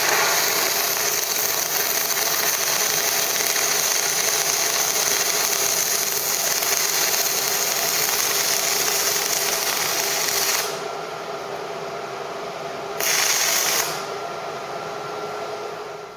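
A 7014 stick electrode runs a bead on DC current, giving a loud, steady broadband crackle and sizzle for about ten seconds before the arc cuts off, leaving a quieter background hum with a brief burst near the end.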